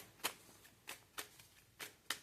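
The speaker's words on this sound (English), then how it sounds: "nope, I gotta shuffle a little bit more." Tarot cards are riffled in five quiet, separate bursts, each a brief papery flutter with short pauses between them.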